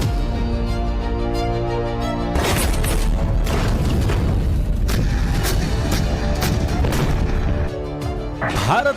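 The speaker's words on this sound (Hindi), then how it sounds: "भारत की तोपें नॉन स्टॉप गोले बरसा रही हैं।" Indian artillery cannons fire shells nonstop in a series of loud, heavy booms and crashes over a sustained musical bed.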